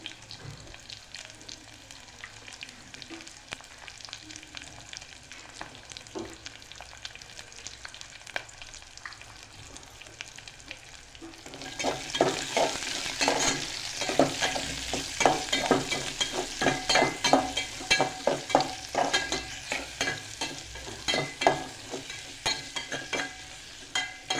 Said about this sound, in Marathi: थोडी लालसर झाल्यानंतर पेस्ट कांदा टाकायचा आहे चला कांदा टाकते आता याच्यामध्ये